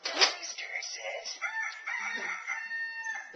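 Electronic cock-a-doodle-doo from a toy rooster, a thin, quiet recorded crow that runs for over three seconds in a room.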